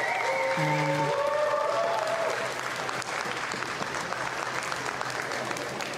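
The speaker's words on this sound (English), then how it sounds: "Big applause for David in lane B from Sweden" An audience at an AIDA pool freediving world championship applauds a Swedish athlete in lane B: steady, sustained clapping throughout, with a voice speaking over it near the start.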